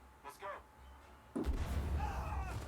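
A single loud firework bang bursts outside, a sharp broadband boom followed by a rumbling sustained tail over game sound effects and speech-like chatter; brief quieter activity comes before it.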